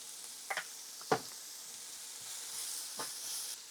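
Sliced onions fry with ginger, garlic and salt in a pan for an egg puff filling, a faint, steady background sizzle with a few brief scraping stirs and knocks.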